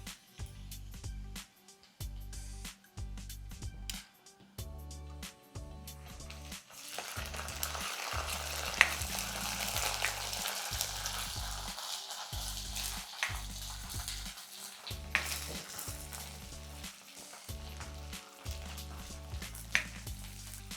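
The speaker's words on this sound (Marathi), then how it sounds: "आता आपण ह्याच्यामध्ये आलं लसूणची पेस्ट टाकूया." Ginger garlic paste fries in a pan for a dahi misal, a steady, close sizzle with bursts of stirring and scraping of the spoon, fairly loud and unbroken throughout.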